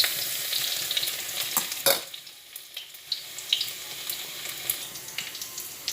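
Onion sautés in hot oil for chicken curry puff filling, a bright close crackle and sizzle with quick stirring scrapes and one louder clatter partway through.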